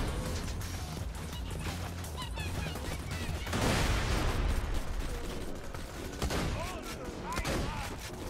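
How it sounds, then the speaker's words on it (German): Rapid turret gunfire in Borderlands 2 hammers on steadily for over eight seconds, loud and dense, with mechanical clatter and bursts swelling mid-way, while players chatter over it. "Boah, ich hab das Geschütz wieder."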